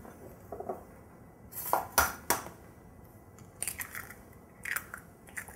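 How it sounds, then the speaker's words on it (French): Eggs added one at a time to chocolate brownie batter in a bowl, giving a few sharp cracks and clinks against the bowl rim in short bursts, fairly close and with quiet pauses between. "Je vais maintenant ajouter les œufs un par un"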